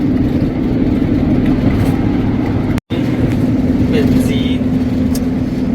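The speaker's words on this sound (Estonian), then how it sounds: "Sportskaar." A sports car speeds past on a road in France, a loud steady engine roar close by, broken by one brief dropout midway, with people talking over it.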